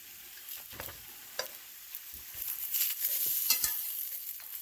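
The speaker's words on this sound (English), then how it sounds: "You're also using a metal utensil in a non-stick pan." Frozen burritos frying in an overheated non-stick pan, a metal utensil scraping and tapping in sharp bursts over a soft sizzle that grows louder toward the end, with no talking.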